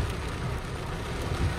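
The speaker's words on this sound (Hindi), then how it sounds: "ये देखिए क्या झमाझम बारिश हो रही है यार बेंगलुरु में" Heavy nighttime rain falling in Bengaluru, a steady dense hiss and patter, continuous and close, with no voices.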